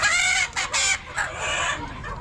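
Chickens on a poultry farm cluck and squawk in loud overlapping bursts, with bright, harsh calls starting and stopping several times over a continuous flock murmur.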